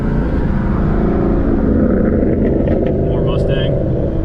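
A Ford Mustang at a Cars and Coffee meet in Jacksonville, North Carolina, rumbles loudly and steadily nearby for the whole stretch, with faint crowd voices mixed in.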